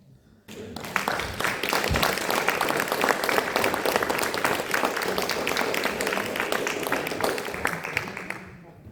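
Audience at a talk about Pierre Poivre applauding, dense sustained clapping from a room of people that starts suddenly and holds steady, fairly loud and close, before fading at the end.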